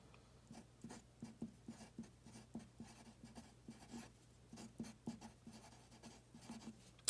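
A pencil scratches a name onto paper in a classroom with quick, faint strokes in an uneven rhythm. A low steady hum sits underneath and no one speaks.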